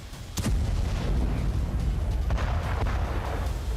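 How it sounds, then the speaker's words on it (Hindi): Sharp blasts and booms from explosions in Iranian cities crack out over a dense, continuous roar, with one strong bang near the start and scattered fainter hits after it. "ईरान में फिलहाल जो धमाके हो रहे हैं"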